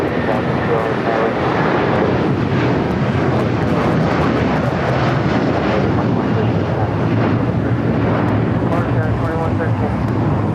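An airliner taking off from runway 25 Right at LAX, a loud, steady roar of jet engines that holds throughout, dense and close, with no pauses.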